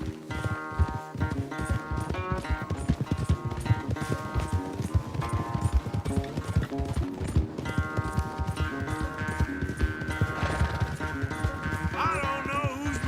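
Hooves clip-clop in a fast galloping rhythm, several horses racing together in the video game Red Dead Redemption 2 under game music, with a horse whinnying near the end.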